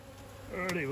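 Honey bees buzzing in an opened hive, a close, dense hum that rises slightly in loudness over a brief moment.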